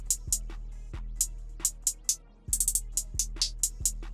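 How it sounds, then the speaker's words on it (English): A trap beat from FL Studio with crisp, rapid hi-hat ticks rolling over a deep sustained 808 bass, heard alone without voices in an uneven skittering rhythm. "a hi-hat,"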